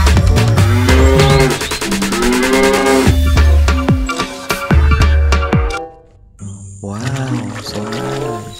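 Toy cow sound effect, a series of loud, drawn-out mooing calls with pitch slides, briefly pausing before another short moo near the end.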